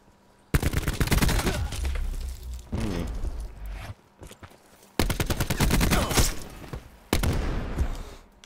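Rapid automatic gunfire from a Call of Duty: Black Ops 4 free-for-all match on the Hacienda map, coming in several loud sustained bursts separated by short pauses.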